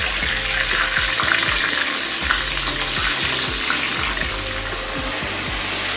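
Chicken meatballs fry lightly in a pan with a continuous close sizzle, punctuated by repeated low knocks and scrapes of a utensil moving them around.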